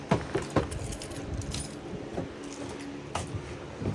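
Car keys for a 1999 Ford F250 Super Duty jangle close by in a garage, a run of bright metallic jingles with a few sharper clinks at the start and near the end, over a steady background hiss and no speech.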